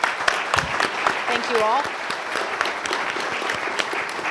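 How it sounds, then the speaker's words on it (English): An audience claps steadily in sustained applause for panelists at an elections summit, with someone speaking briefly over it near the start. "Let's give a round of applause for our panelists."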